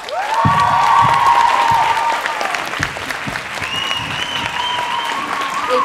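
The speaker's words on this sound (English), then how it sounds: "Can we get another round of applause?" Applause and cheering from an audience after a spoken word performance, with loud clapping and whoops at first, then continuing more softly as a voice speaks over it.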